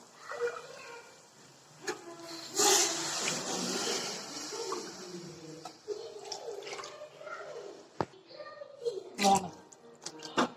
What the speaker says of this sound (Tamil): நான் 3 பேக்கெட் போடுறேன், அதனால 3 டம்ளர் தண்ணி ஊற்றிக்கிறேன்.